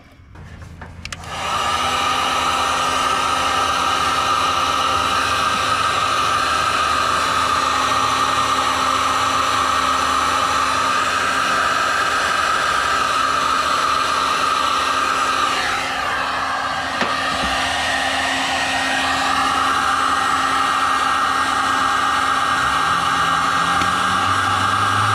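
A heat gun blows hard while shrinking tubing over crimped engine wiring, a loud steady whooshing roar that starts after a second and runs on unbroken, with a brief shift in tone midway.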